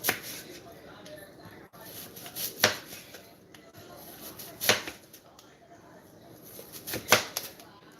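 A knife chopping an onion for a salmon, shrimp and avocado salad, three or four separate sharp cuts spaced a couple of seconds apart, moderately close, with faint kitchen rustling between them.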